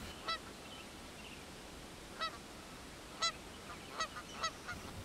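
Greylag and Canada geese honking in open countryside, several separate honks spaced irregularly, fairly distant and soft over a low steady background.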